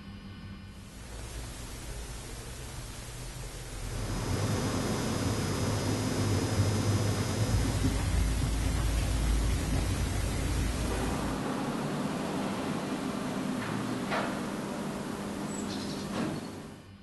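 Room tone from an empty, quiet room picked up by a switched-on camera: a steady, even hiss of broadband noise with a low hum, carrying a couple of faint, brief ticks near the end, and nobody talking.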